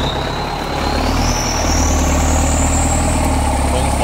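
Ford turbo pickup truck engine revving hard with a rising turbo whine over a heavy, loud, continuous rumble, no speech.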